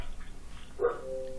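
A dog gives a single short, fairly faint bark near the middle, with quiet room background before and after.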